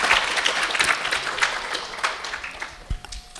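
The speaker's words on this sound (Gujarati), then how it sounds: "એ બધા આજે સ્વામીને તાળીઓથી વધાવીએ." An audience at a Saturday religious sabha applauds a Swami, with dense, steady clapping filling the hall for the whole stretch and a few sharper claps standing out near the end.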